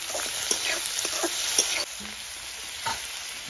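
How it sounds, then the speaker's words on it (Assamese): Carrots, tomatoes and other vegetables sizzle steadily while being stir-fried in a pan as filling for egg rolls, with soft scrapes and taps of stirring over a continuous crackling hiss. "এতিয়া মই ৰোলত দিবলগীয়া গোটেই সবজিখিনি ভাজি লওঁ"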